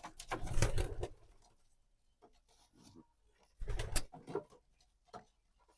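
Fancy pigeons in their coop give low, throaty coos in two separate bursts, close by, with quiet rustling in the pauses between.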